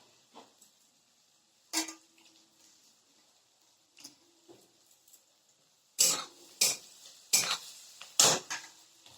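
Cut potatoes dropped into a frying pan and stirred for an aloo-besan sabzi: a few sharp metal scrapes and clanks of a spoon on the pan, close and loud, with quiet gaps and faint sizzling between.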